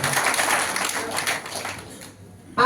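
An audience applauds loudly in a continuous, dense wash of clapping that gradually thins and fades, ending with a brief louder sound.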